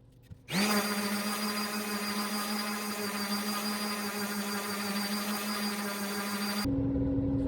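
A power sander works a poplar shelf of a nightstand with a steady, loud motor whine that starts abruptly and runs for about six seconds before cutting off.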